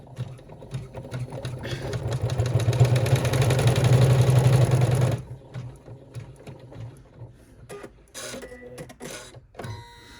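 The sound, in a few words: embroidery machine stitching a sling backpack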